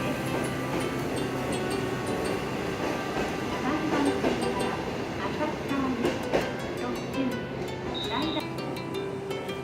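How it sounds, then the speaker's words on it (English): A local train pulls away from a station platform on a main line, its low rumble and rail clatter building steadily, with scattered clicks and squeals, as a voice talks over it. "the local train departs from the other side."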